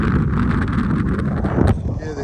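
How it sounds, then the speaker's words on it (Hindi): Cold wind gusting across an exposed hilltop at Mam Tor, a steady broadband rush buffeting the microphone throughout, with a louder gust near the end and talk mixed in. "और इतनी ठंडी हवा चल रही है यहाँ पे,"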